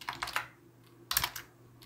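Quiet clicks of computer keyboard typing come in two short clustered bursts with a brief pause between them.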